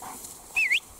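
A dog lets out a single short, high, rising-and-falling whimper up close, brief and clear against a quiet background.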